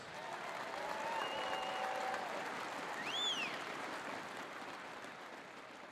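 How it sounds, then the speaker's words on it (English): A crowd at a high school bass fishing tournament applauds its youth directors, with sustained clapping filling the space and a couple of whistles rising above it. "let's hear one big round of applause for all of our Bass Nation youth directors"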